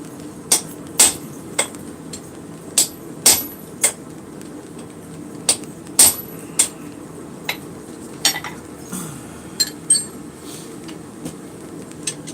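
Hammer blows on a mild steel striking anvil plate while making a metal phone stand, about a dozen sharp metallic strikes at irregular intervals, close and fairly loud, with quieter clinks and shuffling between them.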